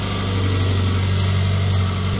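A Classic Mini car engine idles slightly high just after starting, a steady, close, throbbing hum with a strong low drone and no speech.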